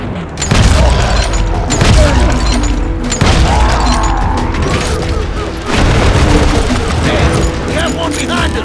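Heavy Wild West gunfight in the shooter game Call of Juarez: Gunslinger: dense, loud volleys of shots and booming blasts come in bursts separated by brief lulls, with shouting voices mixed in.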